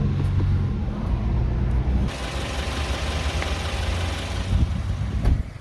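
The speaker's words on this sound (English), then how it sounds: "so that's the idle, pretty quiet" A Subaru Outback engine idles with a low, even rumble, fairly quiet and steady throughout, with a slight change in tone partway through.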